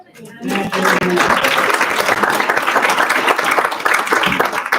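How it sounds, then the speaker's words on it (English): Loud, sustained applause from an audience at a 2023 school spelling bee, with dense clapping that continues steadily from start to finish. "Big round of applause for Mrs. Wilson"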